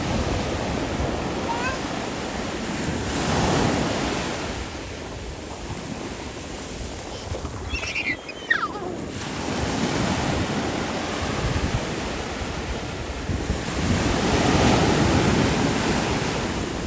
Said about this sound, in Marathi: समुद्राच्या लाटा बघू शकता आमचं हे जे बंदर आहे